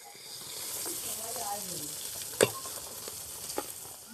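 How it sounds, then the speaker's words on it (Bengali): Fish sizzles and fries steadily in hot oil for a Bengali fish jhal curry, a continuous hiss with a couple of sharp spatters and a soft stir, close and moderately loud. "মাছটা আমার সুন্দরভাবে ভাজা হয়ে গেছে, এদিক ওদিক উলট পালট করে ভেজে নিয়েছি ভালো করে একদম।"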